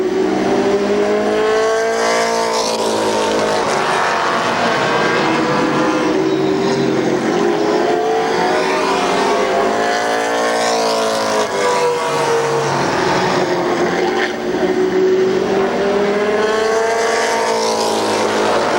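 Race cars revving at Columbus Motor Speedway in 1996, a loud, continuous engine roar with rising and falling pitch sweeps, several engines blending together close by, with no talking.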